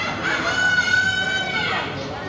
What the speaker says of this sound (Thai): อันนี้ไก่หางยาวครับ